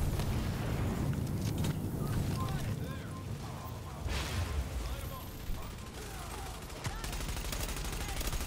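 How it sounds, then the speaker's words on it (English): Explosions and bursts of gunfire crackle and rumble through a dense, noisy battle scene, with repeated sharp reports and sustained low booms throughout. "Explosions."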